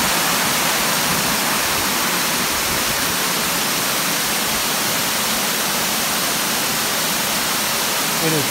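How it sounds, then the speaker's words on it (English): Heavy rain pours in a dense, steady roar at Oconee State Park near Walhalla, staying loud and unbroken from start to finish. "It is pouring down rain right now."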